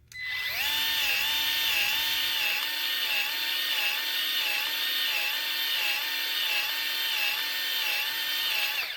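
A Milwaukee M12 cordless grease gun pumps grease into trailer bearing buddies, running as a loud, continuous high-pitched motor whine with a regular pulsing rhythm from the pump strokes, close up and without talk.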